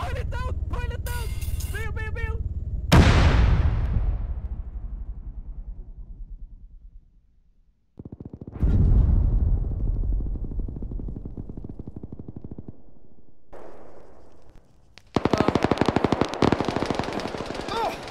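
Video game battle in a Syria setting: bursts of machine gun fire and booming shots with long rumbling decays, loud and close, separated by brief lulls, ending in a dense rapid volley.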